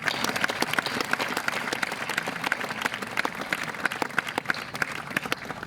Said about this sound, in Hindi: एक बार उस गीत के लिए भी तालियां